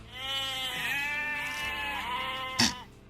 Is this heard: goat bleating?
yes